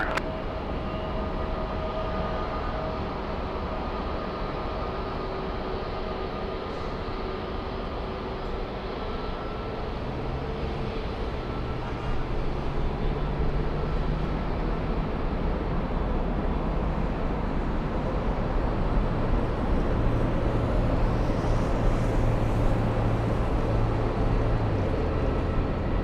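An Embraer jet departs runway 24 left at LAX, heard as a steady, broad engine roar that builds gradually and grows louder toward the end, with low rumbling tones sweeping through it and no talk.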